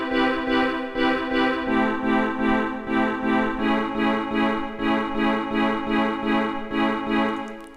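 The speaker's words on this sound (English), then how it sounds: "It starts off with this chord progression, with this earthbound sound." Soft synth pad playing a slow chord progression with an earthbound tone, pulsing in a steady rhythm of swells with gentle decay and release, faint and alone with no voices.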